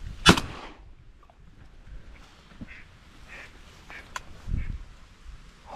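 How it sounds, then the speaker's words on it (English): Out on a flooded cornfield duck hunt, wigeon give faint, whistly calls a few times at middle distance, after one sharp loud crack near the start, with light rustling between. "Just had a 2-pack of widgeon come in."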